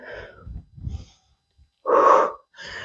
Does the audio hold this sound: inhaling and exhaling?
yes